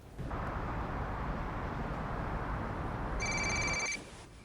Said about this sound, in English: Argavan, your phone.